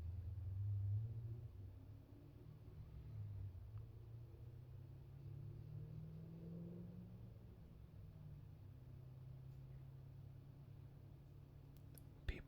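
A loud vehicle passing outside, a deep low rumble that swells and lingers as it goes by, heard from indoors under faint background noise.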